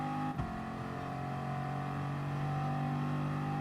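Peugeot RCZ engine droning steadily in a racing game at the Red Bull Ring, a sustained loud hum at constant pitch with one brief bump early, no talk over it.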